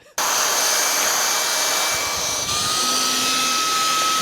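A Shark Rocket Pet Pro cordless vacuum runs continuously at close range, a loud steady high-pitched whine and airy rush that holds without a break.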